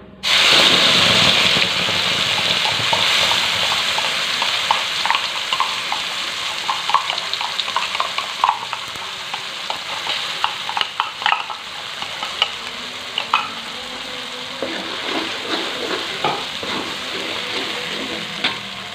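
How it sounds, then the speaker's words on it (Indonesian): Blended spice paste for a Balinese-style salmon dish sizzles loudly as it hits hot oil, then settles into a steady crackling fry with frequent stirring scrapes and clicks, close up. "Sekarang kita langsung saja tumis bumbunya."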